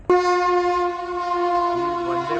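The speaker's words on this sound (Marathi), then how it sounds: "भारत एक्सप्रेस गाडी जात आहे बघा कसं" The horn of the Bharat Express train blares in a long, steady, loud blast with rich harmonic tones, followed by the rumble of the passing train.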